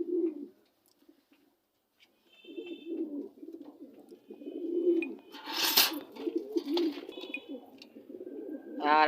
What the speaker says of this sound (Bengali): আপনারা এখন স্ক্রিনে দেখতে পাচ্ছেন যে তিনটি কবুতর